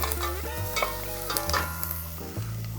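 Garlic sizzling in a hot pan while a spoon stirs it: a continuous close frying hiss over a low hum, with a few soft scrapes, short and steady with no talk.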